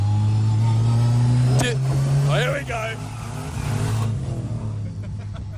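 A 1974 Mazda RX2 accelerates on a track, its engine droning loud and close at a steady pitch before easing off, with a brief spoken remark over it.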